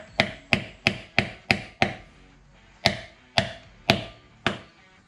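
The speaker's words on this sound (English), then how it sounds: "Hammer the biatch in. Nice and easy." Sharp hammer blows drive in a seal during a front brake job on a Trans Am, a quick series of about six, then a pause followed by four more evenly spaced hits, close and crisp.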